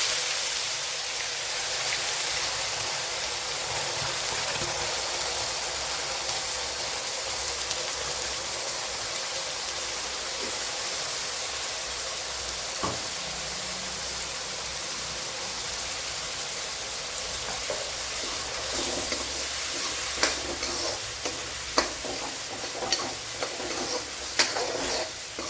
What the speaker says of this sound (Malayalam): ഇനി ഇതിലേക്ക് അടിച്ചു വെച്ചിരിക്കുന്ന സവാളയൊക്കെ കൂടെ ഒഴിച്ചു കൊടുക്കാം